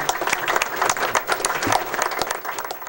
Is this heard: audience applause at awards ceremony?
yes